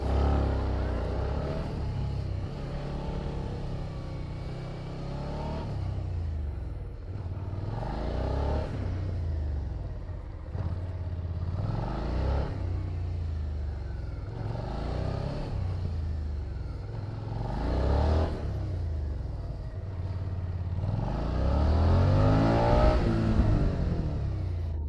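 A 2021 Suzuki SV 650 motorcycle ridden briskly through gymkhana practice, its engine rising and falling in repeated rev surges every few seconds as it accelerates and slows through the maneuvers, heard steadily at moderate distance without talk.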